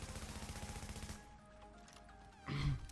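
Rapid gunfire from The Division, bullets striking enemy bodies in a dense automatic burst for about a second, then a lull and a sharper impact near the end, with game music underneath.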